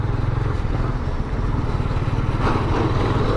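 A motorcycle engine runs close by at a steady, even throb, like idling or slow riding, with no talk over it.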